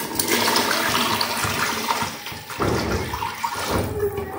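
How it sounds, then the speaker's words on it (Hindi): Water is poured into a cooking pot of dry rice, a continuous splashing gush with a brief lull midway and no talking. "तो अभी मैं ये पानी डाल रहा हूँ इसके"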